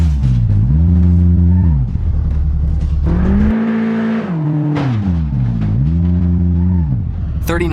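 In BeamNG.drive, a 2018 BMW X5M's engine revs up and shifts through gears in repeated rising whines, with a brief roaring drop in the middle and a crash-like clatter at the end as it plows through gates.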